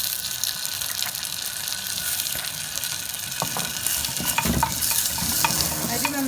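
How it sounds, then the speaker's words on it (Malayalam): Tomatoes and onion sauté in hot oil for a biryani, giving a steady close sizzle with scraping stirs and a few sharper clatters toward the end. "നമുക്ക് തക്കാളി ആഡ് ചെയ്ത് കൊടുക്കാം."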